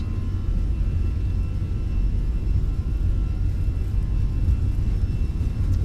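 Airbus A320 engines at takeoff thrust in a flight simulator, a steady, loud, low roar with broadband rumble holding constant throughout.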